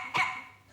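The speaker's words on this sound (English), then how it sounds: "tonight's show is all about dogs, and the buzzers are absolutely barking" A single short, sharp dog bark used as a buzzer, one quick yap fading out fast.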